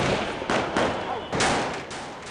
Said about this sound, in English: heavy gunfire can be heard as protesters take shelter on both sides of the street